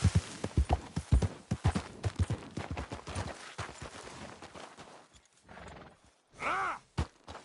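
Horse hooves clip-clop in a video game, a quick run of loud close steps that slows and fades, then a clear neigh near the end.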